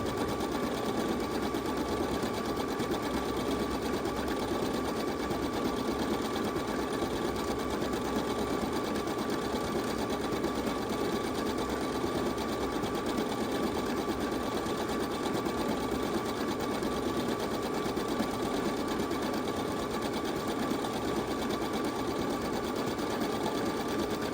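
Brother CS5055 PRW sewing machine stitching fabric held lightly in alignment, a steady, continuous motor whir and needle chatter running without pause at an even rhythm, close and moderately loud.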